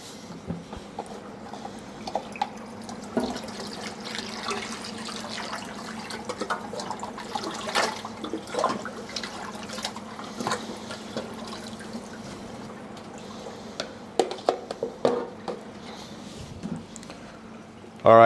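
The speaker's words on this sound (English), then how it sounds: "pour that into the tank, and like I said, the water will go cloudy" Mixed water poured into a reef aquarium, a continuous gurgling splash with occasional drips and sloshes, ending in a sharp knock.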